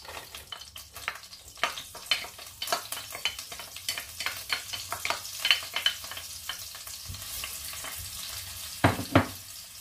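Onion frying in oil in a pan with pork knuckle, a soft continuous sizzle broken by frequent spatula scrapes and stirring taps, louder clusters near the end, with no talking.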